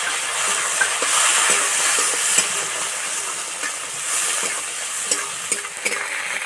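Chopped tomato stirred through hot oil with onion already in the pan, giving a steady close sizzle and hiss with soft scraping stir strokes throughout.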